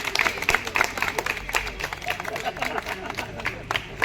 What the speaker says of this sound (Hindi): एक बारी जोरदार तालियों से रजय जी का स्वागत कर दें।